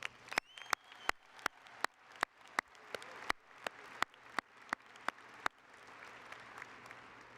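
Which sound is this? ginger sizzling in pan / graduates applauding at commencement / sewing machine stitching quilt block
graduates applauding at commencement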